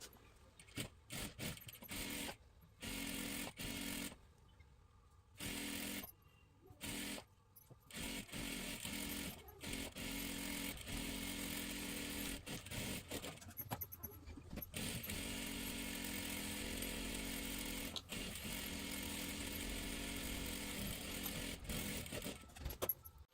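A sewing machine double-stitches a salwar seam down to the bottom, whirring in short start-stop bursts before settling into a long, steady run, quiet and close.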